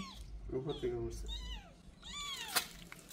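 A small kitten, one of a litter of three, gives several thin, rising and falling meows close by, with a faint voice in the background.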